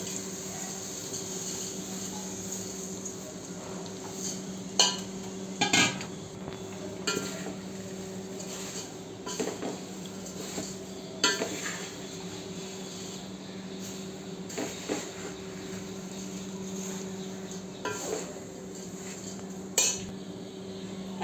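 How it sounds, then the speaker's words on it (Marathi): Poha (flattened rice) roasts in a pan for chivda, a quiet steady rustle with occasional clinks and scrapes of a spoon against the metal pan, close and without talk. "आता हे पोहे त्याच्यातच भाजून घ्यायचे आपण"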